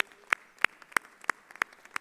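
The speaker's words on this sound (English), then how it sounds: "Please stand for a round of applause." Scattered single hand claps at an undergraduate business school commencement ceremony, about seven sharp claps spaced evenly and slowly, fairly faint and distant, with no talking.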